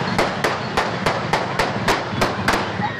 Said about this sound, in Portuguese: As imagens mostram o tumulto e barulhos de tiros.